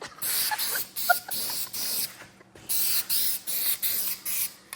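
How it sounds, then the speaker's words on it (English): A spray can of paint hisses in a series of short, sharp bursts separated by brief pauses, close and fairly loud, with no talking, applied in light coats. "don't spray it too heavy. Do it in light coats."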